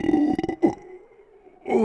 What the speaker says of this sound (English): You're gonna hear a lot of belching, especially if you see me drinking soda.